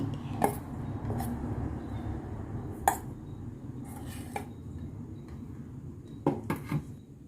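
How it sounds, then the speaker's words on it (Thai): A spoon scrapes and taps against a plate while rice is mixed with shrimp paste chili dip, a few sharp clinks over a soft, steady background hum. "เอาน้ำพริกมาคลุกกับข้าว"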